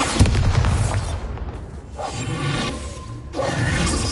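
A Bombarda spell goes off in a Harry Potter video game, a loud booming blast with a rushing whoosh, followed by a second burst a couple of seconds later, heard without talk.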